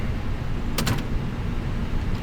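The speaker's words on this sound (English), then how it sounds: "Let's close the door." An American Airlines A320 cabin door closes in Microsoft Flight Simulator, a single brief clunk heard about a second in, over a steady, loud cabin and engine hum.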